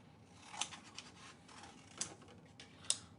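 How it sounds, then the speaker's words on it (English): Scissors cut patterned rose chintz paper during cardmaking, making faint, close snips and rustles with a few sharper clicks spread across a quiet background. "Let's grab my scissors."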